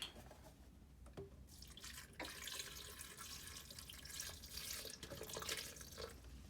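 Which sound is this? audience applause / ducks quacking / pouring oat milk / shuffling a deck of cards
pouring oat milk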